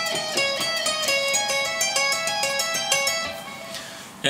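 Electric guitar playing a fast descending run from a solo, ending in a tapping lick: rapid bright picked notes in a steady stream, loud and alone, closing with a sharp final attack.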